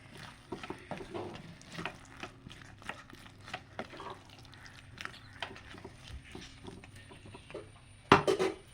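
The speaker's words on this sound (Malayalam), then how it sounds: "ഇനി ഇതൊന്നുകൂടി ഒന്ന് മിക്സ് ചെയ്തെടുക്കാം" Kappa (tapioca) biryani mixed in a pan, quiet scraping and shuffling of the thick mixture with faint clinks, ending in a couple of louder knocks against the pan.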